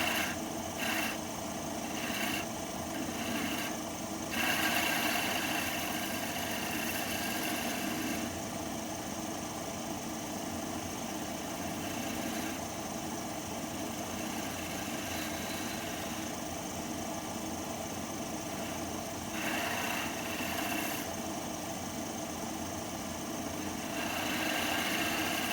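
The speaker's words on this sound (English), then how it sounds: "Use my detail gouge a little easier." A wood lathe spins a soft pine goblet made from a 2x4 while a detail gouge cuts, giving a continuous close motor hum with a raspy scraping texture and small shifts in tone, steady throughout with no talk.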